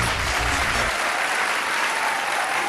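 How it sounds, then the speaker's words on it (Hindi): A large outdoor audience at a fair claps steadily and loudly for a folk art group, sustained applause throughout with no voices on top. "जोरदार तालियां, तालियां बजती रहे"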